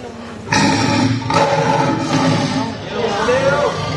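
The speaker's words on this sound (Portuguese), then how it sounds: "Alguém duvida que é leão?" A lion roars, played back in a lecture hall. The deep, rough roar surges several times in close succession, loud and near, with a crowd-like murmur of background noise.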